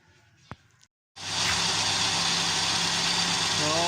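A Mitsubishi Lancer with a 4G13 engine, running without its carburetor, catches after a brief pause and settles into a steady, close idle with a constant hum and rattle.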